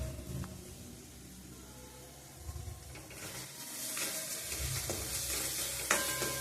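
An urad dal mixture is stirred in a pan, giving soft scraping strokes over a gentle sizzle that grows brighter and louder toward the end, close up with no talk.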